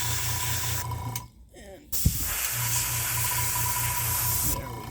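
An airbrush with a quick-color-change cartridge sprays in steady hissing bursts, paused briefly midway, with a sharp click as it resumes; close by, with a voice speaking briefly.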